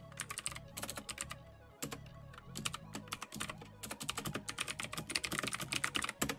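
Rapid, uneven clatter of keys on a computer keyboard, close and fairly loud, with bursts and brief pauses and no talking.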